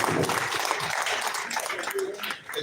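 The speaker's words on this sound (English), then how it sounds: "A round of applause." An audience applauding at a hotel event, dense clapping heard mixed with voices, fading briefly near the end.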